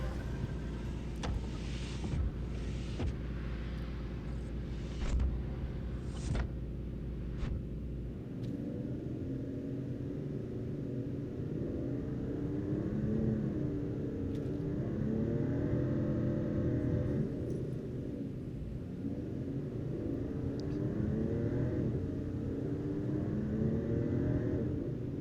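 A car engine in Final Fantasy XV hums during manual driving, a low, steady rumble that shifts into a wavering, rising and falling drone partway through, fairly faint with no talk.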